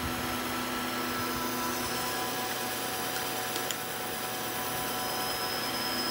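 A lathe facing a rocket motor igniter part, heard as a steady, dense mechanical whir and hum with no clear breaks and no talking, moderately loud throughout.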